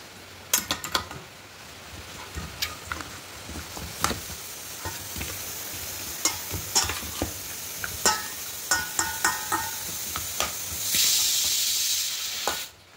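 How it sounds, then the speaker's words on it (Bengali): Hands work a spice paste into raw chicken, making a series of wet, squelching slaps and clicks at irregular intervals, with a brief louder smearing rush near the end. "এবার চিকেনের মধ্যে দিয়ে খুব ভালো করে মাখিয়ে নেব"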